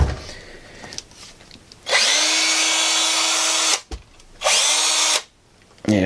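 A Ridgid cordless battery drill, running again after a trigger switch repair, whines in two strong bursts close by, with a rising spin-up at each start and a short gap between them.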